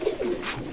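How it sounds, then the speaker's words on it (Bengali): Teddy running pigeons of a blood-line stock at a loft in Daulatpur, Khulna, giving a short low coo close by, with soft rustling around it. "চমৎকার ব্লাড লাইনের কবুতর"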